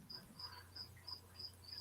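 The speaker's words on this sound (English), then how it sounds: "There's crickets everywhere." Faint, evenly spaced high-pitched cricket chirps repeat about every third of a second over a low background hum.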